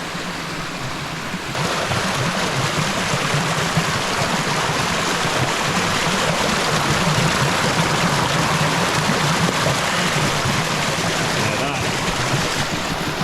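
Moving fresh water rushes in a stream near a Scottish loch, a loud, continuous close-up gush that swells after the first second and holds steady with no speech.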